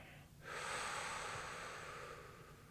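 Deep, steady exhalation during a shoulder stretch, heard close and alone as a long breathy hiss that swells after a brief pause and holds for a couple of seconds.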